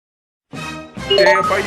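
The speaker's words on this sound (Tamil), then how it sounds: "இதில் வர நம்ம ஃபோன் அடிக்குது" A mobile phone ringtone in a Tamil drama scene, bursting in after half a second of silence as a bright melodic tone that grows louder and fuller partway through.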